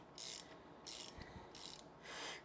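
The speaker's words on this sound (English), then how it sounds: "I'm going to need a taller, or a bigger ratchet for the rest of these." A hand ratchet clicks in three quick, evenly spaced bursts as it turns bolts in a garage, close and crisp, with a faint clunk of metal in between and no talking.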